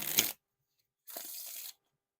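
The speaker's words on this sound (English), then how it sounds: "Now for the riffle shuffle or bridge shuffle." Thick playing cards are riffle or bridge shuffled up close and quietly: a short ruffle, a pause, then a longer fluttering riffle of about two thirds of a second.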